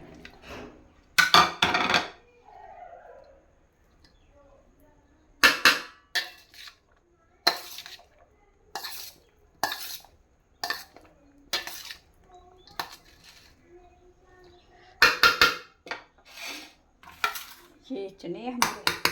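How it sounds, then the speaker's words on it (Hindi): Boiled potatoes going into a bowl while chana chaat is prepared in a home kitchen, with repeated clinks and clatters of utensils against dishes in irregular bursts and a voice talking between them. "ये आलू डालेंगे अब इसमें।"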